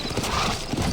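Horses in the Red Dead Redemption western video game, with hooves clip-clopping steadily and a neigh mixed into a loud, busy soundscape.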